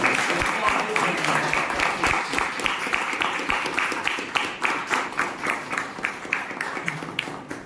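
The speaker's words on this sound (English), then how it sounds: "Can we have a round of applause for them?" A Toastmasters club meeting audience gives a round of applause for club officers, with many hands clapping in a steady rolling patter that thins toward the end into more distinct individual claps.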